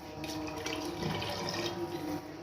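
Steady stream of water, 1.5 litres, splashing into a metal pressure cooker, continuous and close, with no voices.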